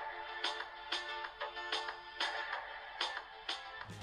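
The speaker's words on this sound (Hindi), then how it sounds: "साथ ही इसमें आपको एक MP3 प्लेयर देखने को मिलेगा। इसके MP3 का वॉल्यूम काफ़ी लाउड है।" Music played loudly through the built-in MP3 player of a Nokia 106 4G feature phone, a bright tinny melody with regular rhythmic note hits, steady and alone with no talk.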